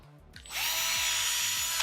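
A power drill spins up after a brief pause and runs steadily with a loud, continuous whine.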